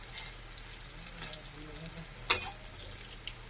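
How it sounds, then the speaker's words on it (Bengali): Water lily flower fritters with chopped onion and chili frying in a pan, a soft steady sizzle with one sharp clatter midway and a few quieter knocks, close and fairly faint. "প্রায় এক পাশ ভাজা হয়ে গেছে, আমি উল্টিয়ে দিচ্ছি।"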